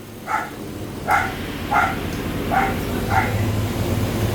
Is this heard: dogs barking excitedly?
yes